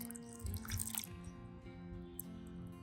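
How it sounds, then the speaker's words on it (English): Water is poured onto a newly transplanted strawberry plant in a garden bed, a short, close splashing trickle over about a second that settles into quieter dripping. "give it a little water."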